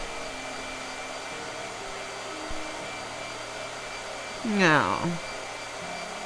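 A blow dryer runs steadily throughout, a continuous whirring hum, with a brief voice and a short whooshing sweep near the end.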